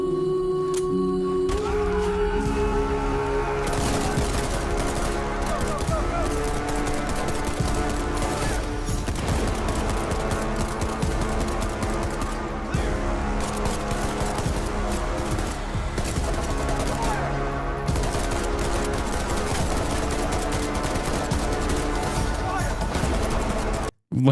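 Video-game gunfire, rapid bursts and volleys under continuous game music and effects, with talking over much of it.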